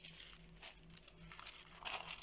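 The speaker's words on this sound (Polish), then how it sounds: "nie ma większego problemu, jeśli odklejamy go od razu" Printed tissue paper is peeled off a surface with faint, soft crinkling and light tearing rustles, quiet and close, with no one talking.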